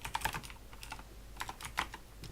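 Keys on a computer keyboard are typed in quick, uneven bursts with short pauses between them, close and fairly quiet, and no voice is heard.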